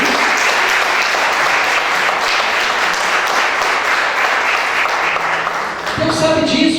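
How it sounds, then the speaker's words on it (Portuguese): A church congregation claps for Jesus in a steady, dense burst that fills the room and keeps going, then fades as other sounds come in near the end. "Dá uma salva de palmas para o Senhor Jesus"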